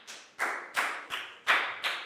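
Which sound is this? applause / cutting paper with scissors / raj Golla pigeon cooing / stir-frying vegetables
applause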